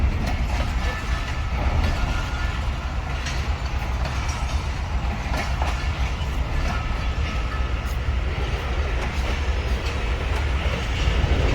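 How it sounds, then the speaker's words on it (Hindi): Faiz Ahmad Faiz passenger train moving through Lahore Junction toward platform 8, a steady loud rumble with rhythmic clickety-clack of wheels over rail joints, continuous throughout. "फैज़ अहमद फैज़ पैसेंजर को जो है ना प्लेटफॉर्म नंबर 8 की तरफ भेजा जा रहा है"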